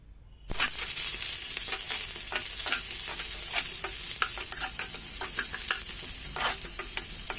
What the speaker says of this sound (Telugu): ఆనియన్స్ మంచిగా సాఫ్ట్గా అయ్యేంత వరకు ఫ్రై చేసుకోవాలి.